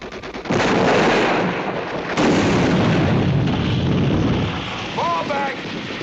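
Heavy gunfire and explosions in a Vietnam War film battle scene, with sustained loud bursts, a second blast partway through and shouting voices near the end.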